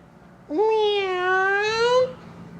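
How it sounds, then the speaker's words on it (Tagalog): A single cat lets out one long, drawn-out meow that rises and then holds. It is close and clear, over quiet background. "Huwag mo kumamiyaw-miyaw dyan!"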